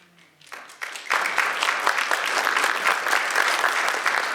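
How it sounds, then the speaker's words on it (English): Applause from the audience at a debate on Israel rises from a few scattered claps into dense, steady clapping that carries on evenly, moderately distant, with no voices over it. "Now that for sure was an applause line."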